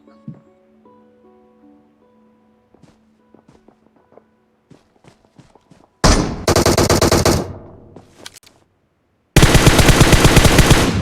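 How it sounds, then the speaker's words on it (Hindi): Automatic gunfire from a PUBG Mobile battle rings out in two long, loud bursts after a stretch of quieter footsteps and soft game sounds, with a short gap between the bursts. "अब यहाँ पे मैं आगे जाने लगा था कि तभी उधर से फायर हुआ"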